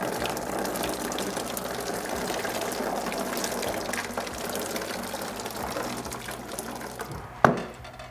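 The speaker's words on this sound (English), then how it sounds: "rinse it off." Hot water gushes and splashes steadily into a beer-making kit container being rinsed of syrup, a continuous rushing pour that ends with a sharp clunk near the finish.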